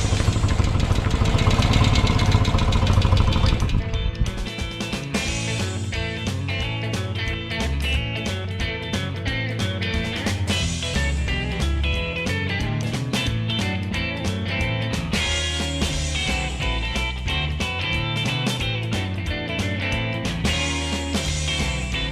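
A racing sidecar's engine runs close by, starting with a rough loud burst before settling into a steady, pulsing idle with a rhythmic mechanical beat throughout.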